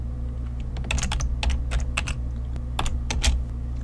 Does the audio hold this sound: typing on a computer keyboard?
yes